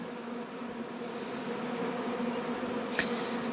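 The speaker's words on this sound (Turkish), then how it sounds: "kestanenin kralı diyebileceğimiz bir arı." Steady, dense buzzing of many Caucasian honey bees close by, continuous and even, with one brief faint tick near the end.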